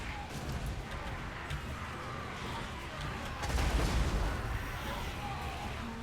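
Artillery shells pound into orc infantry during a fantasy strategy game battle, a steady roar of dense booming impacts and crackling blasts that swells louder midway, with a faint voice underneath.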